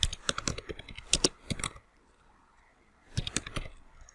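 Quick bursts of computer keyboard typing on a Windows PC, close and crisp, with a pause of near silence before a second short burst of key clicks.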